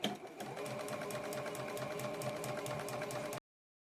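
A sewing machine stitches a quilt block in a steady, fast, continuous whir of needle strokes that runs close and loud for over three seconds, then stops abruptly.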